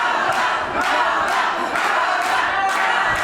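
A wrestling crowd at a women's tournament final for a vacant championship roars loudly and continuously, with surging waves of cheering and chanting and no talk over it.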